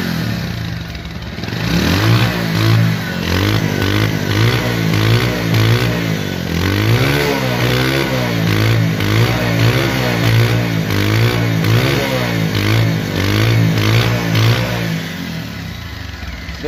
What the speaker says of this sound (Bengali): এখন দেখা হচ্ছে এই বাইকটির সাউন্ড কোয়ালিটি এবং পারফরমেন্স